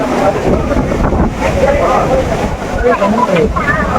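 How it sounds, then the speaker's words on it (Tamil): Courtallam waterfall in Tenkasi makes a loud, constant roaring rush close by, with voices talking over it throughout. "அருவி எப்படி விழுகுங்க?"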